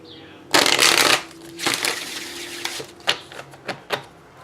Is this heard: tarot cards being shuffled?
yes